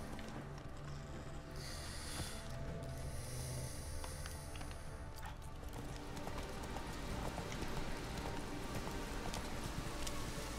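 Horse hooves clip-clop steadily in The Witcher 3: Wild Hunt, a continuous rhythmic trot under ambient game sounds, moderately near with no talk.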